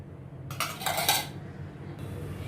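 A kadai (wok) is set on a gas stove and refined oil is added, heard as a short clatter of metal cookware and a serving spoon, close and brief, then a quiet background with no talk.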